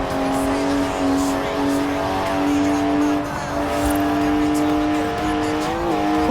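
Turbocharged 3-litre straight-six car with 335 horsepower and twin turbos drifting in Forza Horizon 4, a steady high engine whine held at speed with tyre noise beneath, close and continuous.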